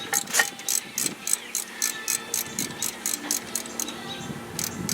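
Ratchet on the 18mm bracket bolts of a 2007-or-later Ford Expedition's rear brakes, clicking in a steady run of short repeated bursts at close range with no talk.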